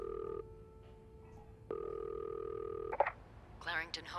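Phone line ringing while calling a hotel reception desk in a video game: a steady electronic ring tone in two long bursts with a short gap, ending as a voice starts answering.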